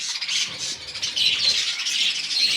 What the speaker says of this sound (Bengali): এখানেও কিছু অ্যাডাল্টস পাখি আছে